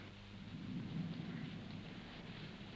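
Thunder and rain on a stormy night in a classic Bollywood romance film scene. A deep, rolling rumble swells and fades over a steady rain hiss, with no talking.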